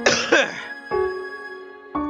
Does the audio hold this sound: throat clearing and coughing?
yes